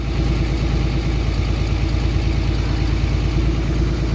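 Cummins diesel engine idling with the idle raised during a cylinder test, a steady, close, loud rumble with an even low knocking pulse throughout.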